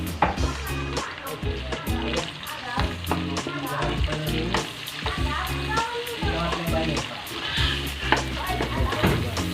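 Garlic and onion fry in a hot pan with a steady, loud sizzle, broken by the repeated scrape and clatter of a utensil stirring. The sizzle runs unbroken throughout.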